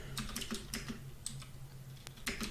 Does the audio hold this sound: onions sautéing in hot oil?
no